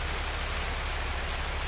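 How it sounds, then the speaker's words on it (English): Steady, heavy rain pours down in a Streets of Tarkov match in Escape From Tarkov, a loud continuous hiss with no breaks and no voices over it. "the rain is still as loud as hell"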